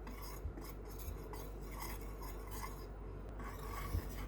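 Paprika powder and salt stirred together with flour in a bowl, a steady close scraping and rubbing with a few light utensil taps against the bowl, no voices.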